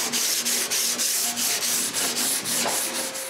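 Sandpaper rubs along the wooden edges of a piece of kitchen furniture, a loud, close rasping in quick regular back-and-forth strokes, about four per second, with no voices.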